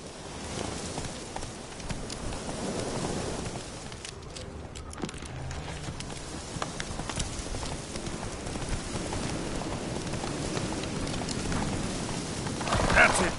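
Geralt's horse Roach gallops in The Witcher 3, a rhythmic clip-clop of hooves running steadily under talking, with a louder burst near the end.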